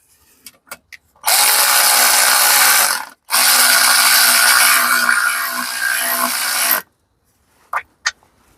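Ratchet tightening a bolt on a 2005 Kia Spectra, heard as two loud, close bursts of harsh tool noise with a short break between them and a few faint clicks before and after.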